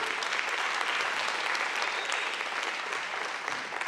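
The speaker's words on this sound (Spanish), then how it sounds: "Un aplauso para el Señor." A church congregation applauds steadily during a Sunday sermon, a dense, even wash of many hands clapping close by, sustained for several seconds without talk over it.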